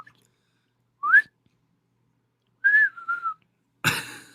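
A person imitates a sharp whistle once heard at night, giving a short rising whistle followed by a longer, wavering one. Both are loud and clear against near silence, and a brief breathy burst comes at the end.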